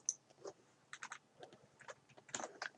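Computer keyboard typing, a short run of irregular quick key clicks in small bursts, close and fairly quiet with no talk.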